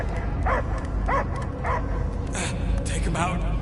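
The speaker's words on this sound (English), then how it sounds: "I hear only barking" A dog barks repeatedly, several sharp yips spaced out over a loud, busy background from the Guardians of the Galaxy game, with a few higher whimpering cries toward the end.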